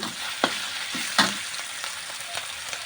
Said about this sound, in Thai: น้ำมันลงไปก่อนนะคะผัดพริกแกงก่อนนะคะ